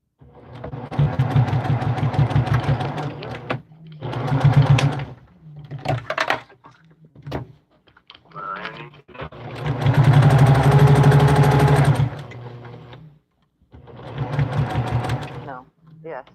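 Sewing machine stitching slowly over fabric darts of about four layers for a bowl cozy, running in several loud bursts of steady rapid whirring with pauses between, close by; people chat in between.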